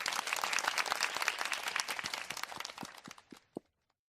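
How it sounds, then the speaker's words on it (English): A round of applause, a burst of many claps that thins out into a few scattered hand claps and stops before the end. "So I want to give you a round of applause"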